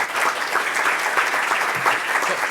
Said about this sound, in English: let's do another round of applause just for everybody while folks walk up